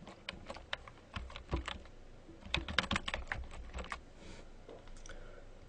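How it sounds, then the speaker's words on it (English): Close, fairly quiet clatter of keys on a computer keyboard as an email address is typed, irregular bursts of clicks with short pauses, no talk. "I'm going to go ahead and type in"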